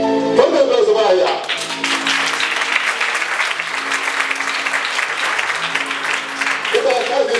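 At a handkerchief hypnosis magic show, a crowd breaks into loud, sustained applause for a volunteer, and a voice talks briefly before and after the clapping.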